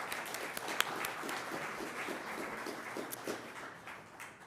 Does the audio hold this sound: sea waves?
no